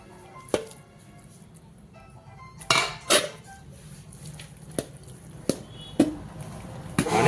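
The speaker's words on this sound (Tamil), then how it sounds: "வச்ச தக்காளியை சாப்பாட்டில் கொட்டி தக்காளி சாப்பாட்டை கிளறோம்" Utensil stirring tomato rice in a metal cooking pot, heard as scattered metallic scrapes and clanks against the pot over a low background hum, close by and without speech.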